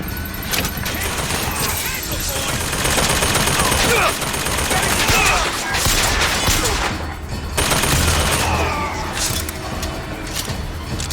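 Enemy gunfire in the video game BioShock Infinite, dense crackling shots and bursts running steadily through the whole stretch amid busy game noise, loud and close.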